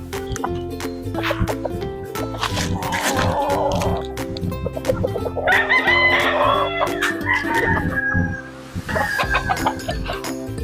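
Texas roosters and native chickens crow and cluck nearby in a farmyard, with several loud overlapping crows rising over continuous clucking and a dog barking briefly in the background.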